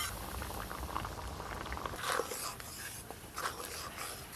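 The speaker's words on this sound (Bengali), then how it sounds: "এবার সব কিছু একটু ভালো করে ফুটিয়ে নিলে কুলেখাড়া শাকের ডাল হয়ে যাবে।" A pot of kulekhara greens dal simmering on the stove, with soft steady bubbling and small pops against a faint background hiss, heard without any talk.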